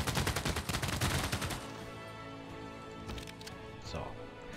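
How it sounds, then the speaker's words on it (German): Units in Civilization VI shoot at barbarians, a rapid crackling burst of gunfire in the first second and a half that fades into quieter game ambience, with a voice talking over it. "Wir schießen nochmal, dann ist er fast tot."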